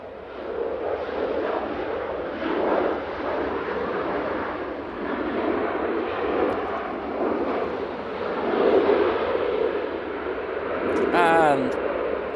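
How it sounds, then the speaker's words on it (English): A Ryanair Boeing 737-800 from Belfast lands on runway 23 right at Manchester Airport in windy conditions, a steady broad engine roar with gusting wind noise under a live commentator's voice. "we have this Ryanair 737-800 coming in from Belfast now"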